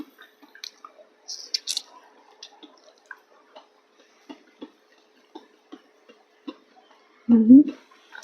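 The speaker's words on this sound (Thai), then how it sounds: "เคี้ยวโดนเม็ด" Someone chews a ripe, juicy fig full of seeds close up, with soft wet clicks and small crunches scattered irregularly through near silence, then a short burst of voice near the end.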